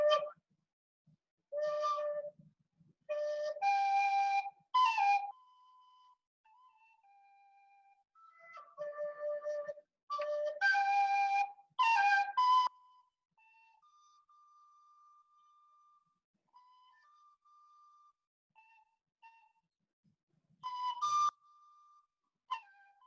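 Tin whistle notes played in a whistle workshop, short melodic phrases of clear high tones separated by silences and quieter sustained single notes, heard alone without talk.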